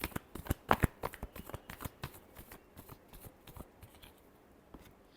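Tarot cards being shuffled by hand, a rapid run of crisp riffling snaps close up that thins out toward the end, with no voices.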